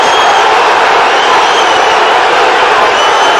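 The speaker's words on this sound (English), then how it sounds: "the crowd are erupting for that" A dense, loud football crowd roars and cheers without a break at a Hearts versus Celtic League Cup match in 2000/01, a steady wall of many voices filling the stadium.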